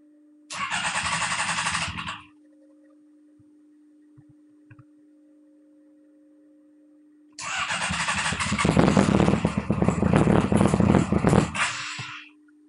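A Formula SAE race car engine cranks and briefly catches, then falls silent; after a long quiet pause with a steady low hum, it starts again and runs loud and rough for several seconds close by.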